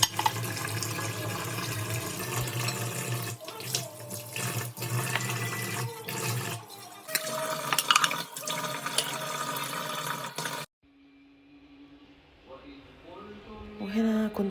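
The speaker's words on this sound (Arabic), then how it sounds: "نغسل المواعين بتاعة الفطار" Breakfast dishes are washed under a running kitchen tap in a home sink, with a steady stream of water and clinking dishes that goes on for about ten seconds before stopping, followed by quieter handling sounds.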